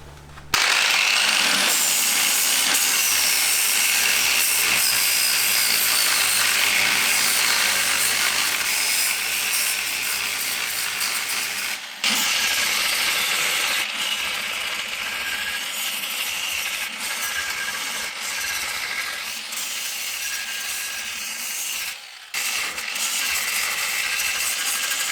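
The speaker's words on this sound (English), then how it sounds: "Right, so now I've just cleaned it up with the flap wheel." An angle grinder fitted with a flap wheel scours rust from the underbody of a BMW E30, a loud, continuous, harsh abrasive whir that runs nearly nonstop with two brief dips where the tool lifts off.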